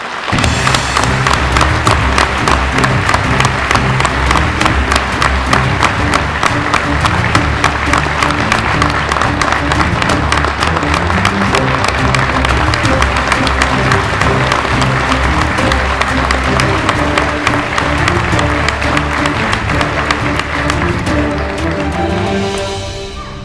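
A large audience claps steadily at a police promotion ceremony, giving a dense, loud, unbroken round of applause that holds for over twenty seconds before tapering slightly at the end.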